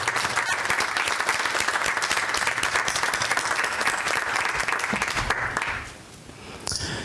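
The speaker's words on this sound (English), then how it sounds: "please join me in a round of applause for our former board member" A room of attendees at a community board meeting gives a steady round of applause, dense and sustained, then fading out near the end before a voice returns.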